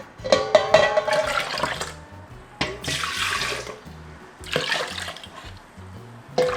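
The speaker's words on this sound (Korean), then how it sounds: "내 3리터에서 남은 물에다가 한 번 더 헹궈줄게" Lettuce is rinsed again in leftover water for a lettuce water kimchi, with splashing and sloshing bursts in a basin. Three distinct surges of running and swirling water come close and fairly loud, with quieter dripping between them.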